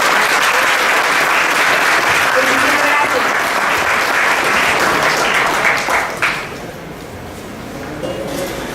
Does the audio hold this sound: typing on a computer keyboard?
no